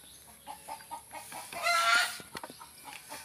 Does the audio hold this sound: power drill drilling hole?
no